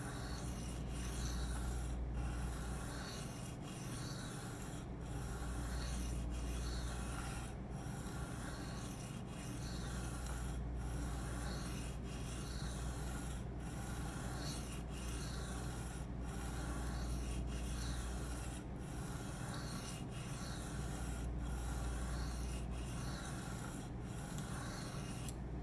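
A Spyderco Sage 5 knife with M4 steel is sharpened freehand on DMT diamond stones, producing a close, steady series of rhythmic rasping strokes, about one every second, without talk.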